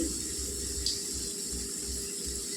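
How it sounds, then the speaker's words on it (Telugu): A steady stream of water pours continuously into a cooking mixed vegetable paneer curry, like running from a tap, fairly close and unbroken for the whole moment. "ఇప్పుడు నీళ్ళు వేసుకోవాలండి."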